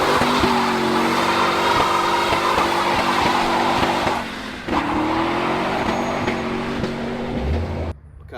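A 2001 Roush Mustang holds a loud, sustained, high rev during a burnout, with screeching tire squeal over the roaring engine, a brief dip in pitch midway, then the revs drop off abruptly at the end.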